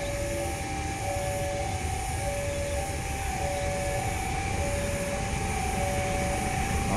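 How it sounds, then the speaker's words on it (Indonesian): A train rumbling past a level crossing in Bandung, loud and close, with a sustained heavy roar of wheels and carriages and a steady tonal hum running the whole time. "akan ada kereta api yang melintas dari arah timur"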